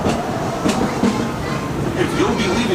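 The Disneyland Railroad train rumbles steadily along its rails toward New Orleans Square Station, with rhythmic wheel clacks and squeaks over a constant close roar and faint voices mixed in.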